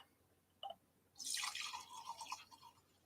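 Liquid is decanted off settled charcoal in a still setup, a short quiet drip followed by a brief trickling pour that fades out.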